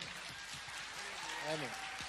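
Faint, distant applause from a concert audience at a Chechen song recital, a soft steady patter of clapping with a brief voice rising near the end.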